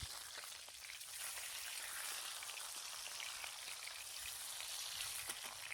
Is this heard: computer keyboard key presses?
no